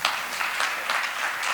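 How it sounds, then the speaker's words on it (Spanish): Audience applause for a panel at a conference on risk appetite and venture capital, a steady broadband wash of clapping filling the short clip at moderate level with no talk over it. "Les pido a toda la audiencia un fuerte aplauso para ellos."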